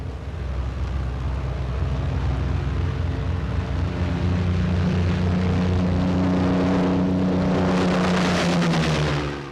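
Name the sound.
TBF aircraft taking off on propeller thrust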